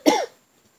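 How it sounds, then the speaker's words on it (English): A single short, harsh cough bursts out close to the microphone and dies away quickly, leaving near silence. "I was having a coughing fit, so I had to stop"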